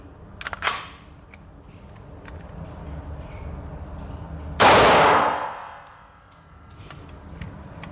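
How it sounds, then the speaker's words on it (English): A Canik TTI pistol fires a single sharp, loud shot with a ringing tail. A few quick metallic clicks and clanks from handling the gun come a few seconds earlier. "shoot this last live round"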